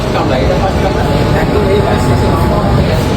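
Loud, constant rumble of a Kolkata underwater metro train running from Howrah station, with a broad roar and faint high tones, heard from inside the carriage.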